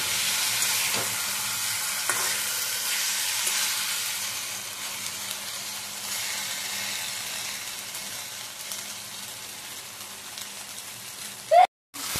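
Fried pointed gourd (potol) is stir-fried in oil in a pan, with a steady, loud crackling sizzle and faint scraping. The sizzle cuts off briefly near the end after a sharp knock.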